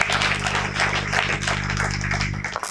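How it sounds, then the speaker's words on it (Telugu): An audience claps to welcome someone speaker onto the stage at a youth talk event, a dense, steady patter of many hands over a low constant hum, close and fairly loud throughout. "గట్టిగా చప్పట్లతో మేడంని ఆహ్వానం పలుకుదాము."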